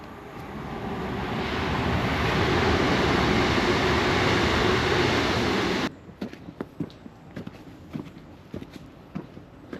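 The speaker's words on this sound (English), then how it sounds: "Oh, train." A train passes on a railway line near Leeds; its loud rushing roar swells over several seconds and then stops abruptly, leaving close footsteps on a walking path.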